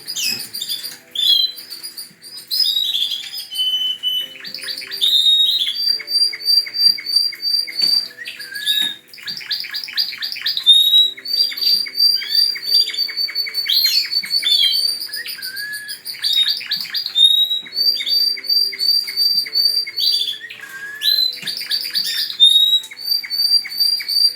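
Many small birds in an aviary chirp and trill continuously, with rapid overlapping tweets, whistled calls and fluttery patter, loud and close with no voices.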